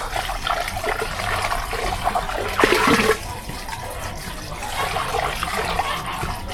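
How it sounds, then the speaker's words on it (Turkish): Fresh cold water pours steadily into a dog's bowl, a continuous close splashing rush with a brief louder surge midway, and no talking. "Önce kızımı bir su koyayım. Taze taze, soğuk soğuk."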